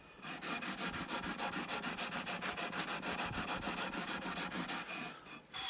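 Fine sandpaper on a sanding beam rasps over the frets of an Eastcoast MT1 guitar in quick, even back-and-forth strokes, a dense rhythmic scratching close up with no talk.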